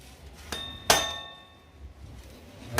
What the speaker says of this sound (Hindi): ये बंदा उधर से ठोक के पेचकस उधर से ये पिन को ठोक करके लगाने वाला है।